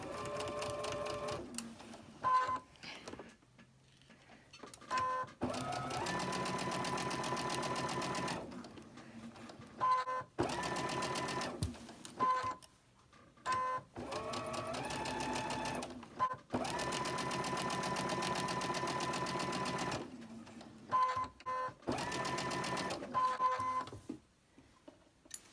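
A sewing machine chain stitches cotton fabric pieces with a white thread and size 12 needle, running in steady buzzing bursts of several seconds separated by short pauses, close and clear with no talking.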